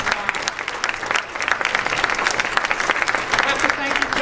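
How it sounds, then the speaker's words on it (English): Loud, steady applause fills the room at a council meeting, celebrating children's film contest entries, with dense clapping throughout and no pause. "A great round of applause"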